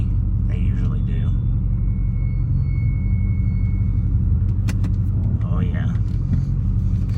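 A 1988 Porsche 928 S4 drives along with a steady, loud low engine rumble filling the cabin throughout, and a voice briefly speaks over it.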